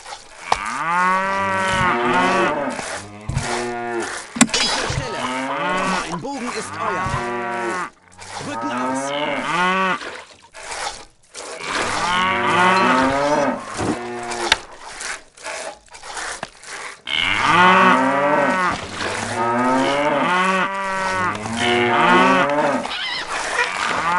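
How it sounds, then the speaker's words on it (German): Cattle in the strategy game Stronghold moo over and over, loud and close, in long drawn-out calls that come in bursts with brief gaps between them. "Ich hoffe, die Kühe stören mich."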